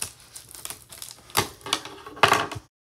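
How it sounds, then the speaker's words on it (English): Scissors cut open a fidget toy package with a run of short, crisp snips and crinkling plastic, close and alone, with a few sharper cuts near the end. "Let's cut this open."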